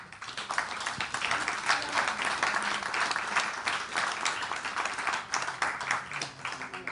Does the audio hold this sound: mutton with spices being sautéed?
no